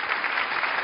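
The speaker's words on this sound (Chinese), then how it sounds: "掌声有请。" A brief, dense burst of audience applause fills a hall at an award ceremony marking twenty years of a Suzhou television storytelling programme, then cuts off sharply.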